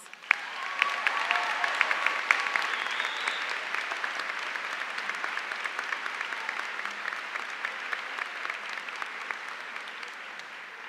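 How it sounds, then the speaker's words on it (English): A large audience at a Harford Technical High School commencement ceremony claps in steady, sustained applause that fills the whole stretch, dense and even with no voices on top. "Graduates and guests, please join me in a round of applause."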